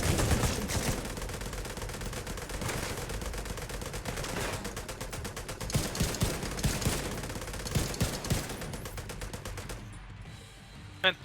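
Rapid automatic gunfire rattles almost continuously in the video game Tom Clancy's The Division 2, with dense overlapping bursts that fade into a quieter stretch near the end.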